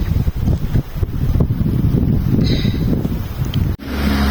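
Strong, cold winter wind gusts across the microphone in a snowy outdoor spot at about minus ten degrees, roaring steadily and near for several seconds, with a brief drop near the end.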